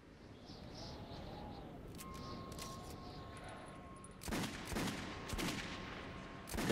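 Gunfire in the video game Metro 2033: a dense burst of shots in the second half, with several sharp cracks in quick succession over a quiet background hum.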